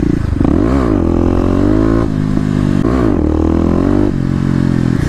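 A Kawasaki KLX250 dirt bike accelerating hard, its engine loud and close, revving up through rising pitch sweeps with brief drops at gear shifts, wind buffeting over the exhaust.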